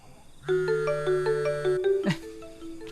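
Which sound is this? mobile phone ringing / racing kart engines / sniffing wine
mobile phone ringing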